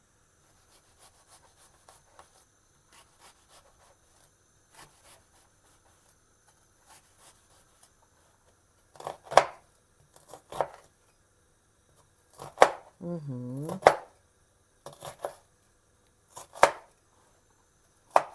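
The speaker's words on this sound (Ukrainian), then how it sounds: "Нарізаю цибулю" A knife chops a very large onion into small pieces on a board, light taps at first, then louder crisp cuts in uneven bursts; one short low vocal sound of agreement in between.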